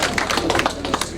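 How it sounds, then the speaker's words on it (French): Wedding guests at a customary and civil wedding applaud, a brief, dense burst of many hands clapping together, close and fairly loud, with no speech over it. "On applaudit, vous voyez bien Franck."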